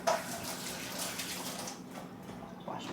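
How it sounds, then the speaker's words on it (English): Hands washed under a running kitchen tap while stuffed pork chops are prepared, a close, steady hiss of flowing water with splashy surges as the hands move through the stream. "Wash my hands."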